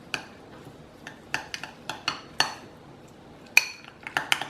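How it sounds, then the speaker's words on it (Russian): A spoon stirs a seasoned sauce of black pepper, salt and oregano in a bowl, giving a run of sharp clinks and scrapes against the side, close and fairly quiet, with no talking. "Хорошо перемешиваю."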